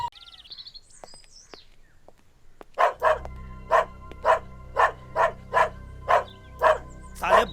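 A dog barks repeatedly in a village, roughly ten sharp evenly spaced barks that stay close and loud, after a quieter stretch with faint bird chirps.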